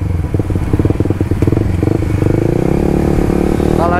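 A Suzuki GSX-R 150 motorcycle accelerating hard on a public highway during a top-speed run, its engine note climbing loud and close with a rising whine and rapid pulsing beat, no speech over it.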